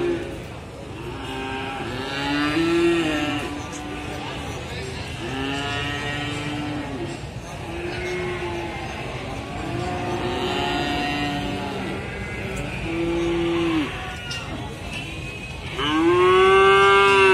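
A Limousin calf moos repeatedly, several drawn-out lowing calls spaced through the recording, close by, with outdoor background noise between them.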